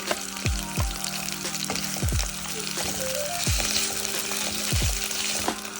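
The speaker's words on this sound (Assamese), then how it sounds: "এতিয়া এখন কেৰাহীত আমি ধুনিয়াকৈ তেল দি লৈছো আৰু তাত দিছো পিয়াজ লগতে দিছো ক্যাপসিকাম" Onion and capsicum sizzling in hot oil in a wok, a steady bright frying hiss with several rhythmic spatula scrapes and knocks against the pan, close and continuous.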